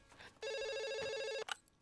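A telephone bell rings once in a single sustained electronic burst of about one second, fairly faint, in an indoor scene with no talking over it.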